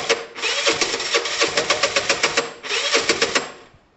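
A Piaggio Typhoon scooter engine on its first start-up after work, a buzzing burst of rapid pulsing that rises, briefly dips, then surges again before dying away, close and fairly loud.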